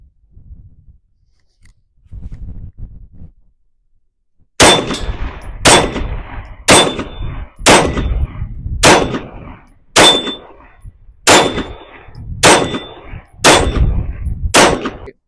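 Ruger RXM pistol fed from a Glock brand magazine fires ten sharp, loud shots at a steady pace of about one per second, preceded by a few quieter handling noises.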